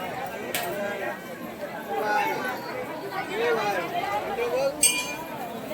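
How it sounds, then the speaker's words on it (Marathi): A crowd mills about at a village fair in Alibag, Raigad: steady overlapping chatter of many people nearby, with occasional faint clinks and a couple of sharp taps, and a nearby voice speaking over it. "आता बऱ्यापैकी गर्दी झाली आहे"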